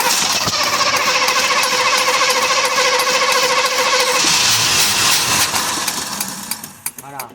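A car engine, either a Monte Carlo or a Ford truck, cranks and runs loud and close with a rough, pulsing mechanical roar as full throttle is pumped, then cuts out and ends with a few clunks.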